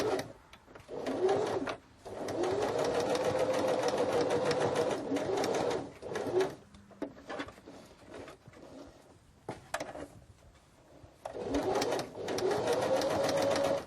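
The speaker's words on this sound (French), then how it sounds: "je vais piquer à nouveau sur l'envers à 1 cm des bords pour cacher la première piqûre" Domestic sewing machine stitching a fabric laundry bag, running in several rapid mechanical bursts separated by short pauses, close and moderately loud.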